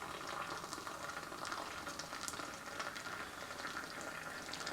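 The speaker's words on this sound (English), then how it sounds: "I'm just going to pour all the way to the top" Hot water pours steadily into an AeroPress coffee maker, a continuous bright splashing hiss that fills the whole stretch at close range, with no talking.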